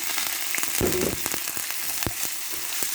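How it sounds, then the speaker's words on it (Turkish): Washed rice tipped into a pan of fried vermicelli, setting off a bright, steady sizzle with a brief burst of crackling as the grains hit the hot oil. "şehriyemi güzelce nar gibi kızarttıktan sonra üzerine yıkamış olduğum pirincimi ilave ediyorum"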